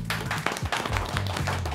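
Several people clap together in a brief burst of close, uneven applause that lasts under two seconds, with a voice briefly heard over it.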